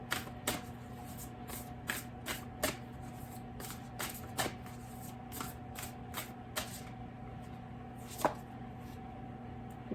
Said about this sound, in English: let me close it off with a oracle card from the Lantern Oracle.